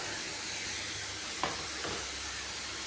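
Chopped papaya with onion and salt cooking in a covered pan, giving a soft, continuous sizzle and hiss with a couple of faint clinks.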